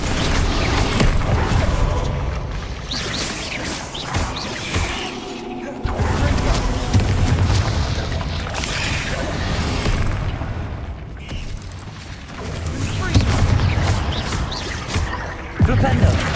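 Bombarda and Flipendo spell blasts in Hogwarts Legacy on PS5, heavy booming bursts and mechanical rumbles inside a mine, loud and continuous with repeated impacts, mixed with voices.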